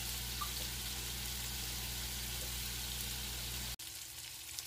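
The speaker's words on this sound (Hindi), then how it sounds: "इस तरह की फ्लेम देते हुए हमें इसे फ्राई करना है" Tawa chops frying in oil on a griddle over a medium flame give off a steady, dense sizzle close by, continuous and even, then cut off abruptly near the end.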